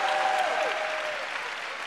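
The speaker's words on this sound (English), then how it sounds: "You should clap for me right there." An audience bursts into applause during a talk, a brief, steady wash of clapping from a crowd that holds even and tapers slightly as it ends.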